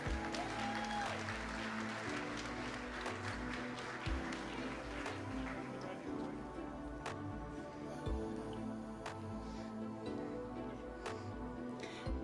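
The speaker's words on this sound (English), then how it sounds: "let's give one big more round of applause to class 37" Audience applause for graduating class 37 at a Leadership Springfield event, steady sustained clapping from a large crowd filling the room throughout, with music playing underneath.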